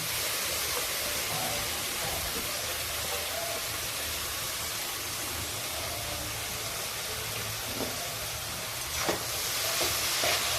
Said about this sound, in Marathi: आता मी त्यामध्ये ही स्वच्छ धुवून भिजवून घेतलेली सुकट टाकते